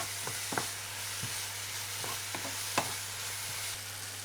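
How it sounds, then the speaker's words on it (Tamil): Chopped garlic and green chili sauté quietly in a pan with softened tomato, giving a faint steady sizzle marked by a few soft clicks of stirring. "இந்த பூண்டு போடுறேன். அது கூட பச்சை மிளகாய் அதையும் வதக்கலாம்."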